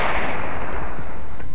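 A gunshot fired at a distant target outdoors, heard as a loud, harsh, sustained blast that fills the whole short stretch without a clear single crack.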